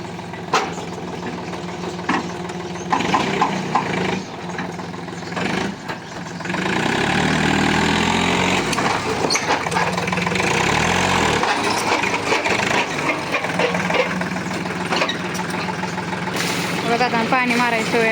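A tractor engine runs at idle, a steady low mechanical drone that grows louder and fuller midway and continues under intermittent talk.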